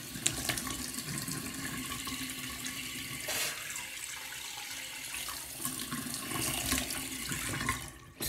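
A tap runs water into a bathroom sink during a nighttime routine, a steady splashing hiss that briefly shifts in tone midway and continues to the end, fairly quiet, with no talking.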